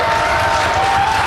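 Large crowd at a Kennedy Space Center Falcon Heavy launch cheering and applauding at side booster separation, a dense, steady wash of clapping and shouting voices that holds continuously throughout.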